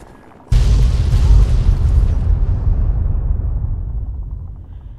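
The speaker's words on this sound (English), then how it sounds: "They're making another bombing run." Bombing run explosions in Fallout 3: a sudden loud, deep blast that rumbles on and slowly fades over several seconds, with no talk over it.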